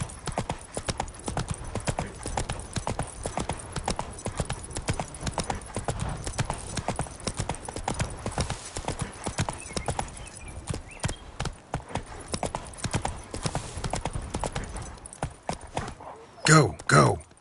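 Horse galloping in The Witcher video game, a fast, steady rhythm of hoof clip-clop close up that runs throughout, with voices talking over it and a louder burst near the end.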